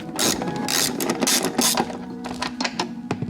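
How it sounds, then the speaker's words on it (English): Angled ratchet clicking on rear bolts of a Mazda Miata, rapid bursts of ratcheting clicks with short pauses between strokes, close and fairly loud. "I do have this ratchet that kind of angles itself like this, so hopefully this time I don't have any trouble getting these rear bolts out"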